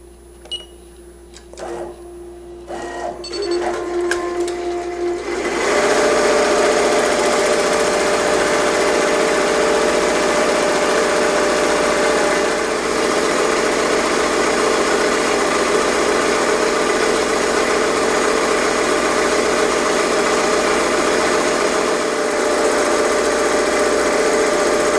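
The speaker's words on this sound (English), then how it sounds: "It's going to start stitching the satin stitch around the word Fury." Embroidery machine stitching a satin stitch around lettering on CAD-CUT flock, starting with a few clicks and beeps, then a loud, fast, steady mechanical whirring and rattling that carries on without pause.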